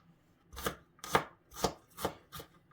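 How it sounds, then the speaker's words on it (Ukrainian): Five crisp knife chops strike a cutting board as garlic cloves are cut into small pieces, at an even, unhurried pace, close and clear against quiet. "Беремо два зубки часнику, ріжемо його на невеличкі кусочки"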